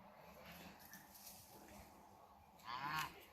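Geese honking in a short burst near the end, after a few seconds of quiet outdoor background.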